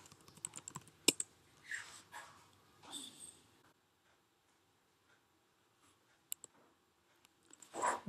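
Keys tapped on a computer keyboard while setting a root password during a VMware ESXi install on an Intel NUC, a few scattered clicks and short bursts separated by a long quiet gap, faint and close.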